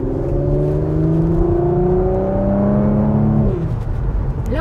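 Porsche Macan GTS in sport mode accelerating hard, a loud continuous engine note climbing steadily in pitch through the gears, heard from inside the car, then easing off.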